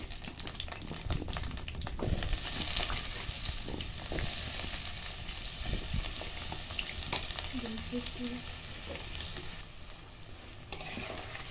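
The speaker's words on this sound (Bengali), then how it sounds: "আলুগুলো নিয়ে আমি তেলে ভেজে নেবো।" Cut potatoes frying in hot oil in a kadai for vegetarian khichuri, a steady dense sizzle and crackle with occasional stirring clinks, close and continuous throughout.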